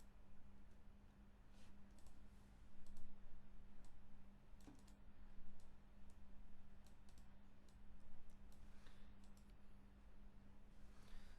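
Quiet, sparse clicks from a computer mouse and keyboard during software work on a new project, scattered irregularly over a low steady electrical hum with no talking.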